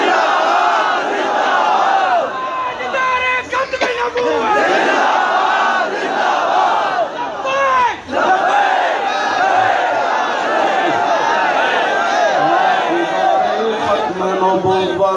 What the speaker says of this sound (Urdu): سانو نہیں پتا تواڈے نعرے دی گونج کتھے تک جاندی